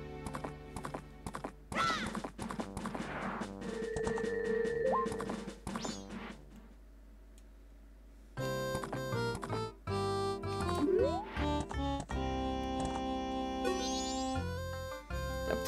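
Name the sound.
horse galloping hooves in video game Zelda Majora's Mask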